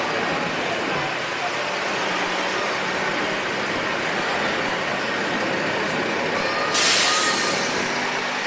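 A bus bound for Malolos rumbles past amid steady roadway noise, with a loud hiss of air brakes late in the clip; no talk over it.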